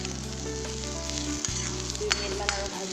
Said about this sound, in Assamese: এইফালে মোৰ ঢেকীয়াৰ লগত বুট ধুনীয়াকৈ ভজা হৈ গৈছে